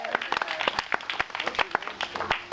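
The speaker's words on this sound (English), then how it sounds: "let's give her a big round of applause" An audience at a Wild West comedy show claps for a volunteer, giving scattered, distinct handclaps from a modest crowd that come close and crisp and fade within a few seconds.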